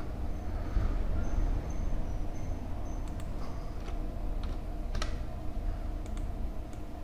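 Typing on a computer keyboard while working in Microsoft Word, light scattered key clicks and taps at moderate distance over a steady background hum, sparse and irregular rather than a fast run.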